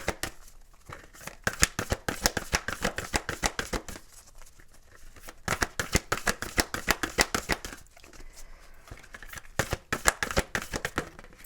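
Oracle spell cards shuffled by hand in quick, crisp riffling bursts, with rapid rhythmic flicks that pause briefly twice before resuming, close and fairly soft with no talking.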